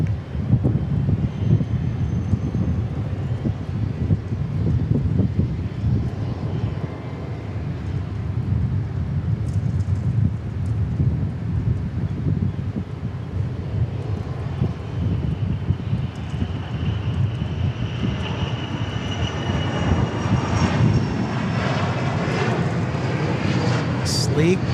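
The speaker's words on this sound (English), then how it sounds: "our next takeoff will be Gulfstream" A Gulfstream business jet takes off at Dallas Love Field, a loud sustained engine roar that swells and later rises in pitch as it passes, with wind noise on the microphone and people talking.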